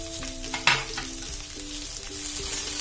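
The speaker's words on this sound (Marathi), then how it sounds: "आता परतून घेऊया." Capsicum and onion cut into squares sautéing in a pan for chicken 65 masala, a continuous close sizzle with stirring scrapes and one sharp clack of a spatula, with a steady tonal hum underneath.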